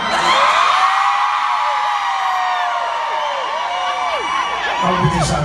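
At a reggae night concert at an outdoor bandshell, women in the crowd scream and whoop together in a long, loud, sustained wave of high-pitched cheering.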